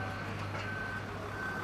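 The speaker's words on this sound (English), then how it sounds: "You can see now that lorry is on its way back." A lorry reverses on a residential building site, its reversing alarm sounding a steady, faint tone over low engine rumble in the background.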